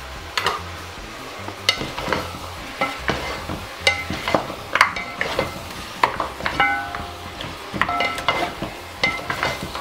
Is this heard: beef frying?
yes